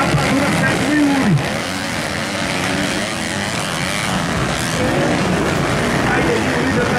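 Motocross bikes in an intermediate-class race accelerate in a steady, loud engine roar with a rising whine, heard from trackside while a commentator talks over it throughout.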